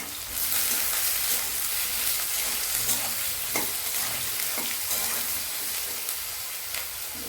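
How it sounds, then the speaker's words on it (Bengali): Eggplant pieces fry in a pan with a loud, steady sizzle and hiss, broken by the occasional scrape of stirring, close up with no talking. "বেগুনগুলোকে একটু ভেজে নেবো।"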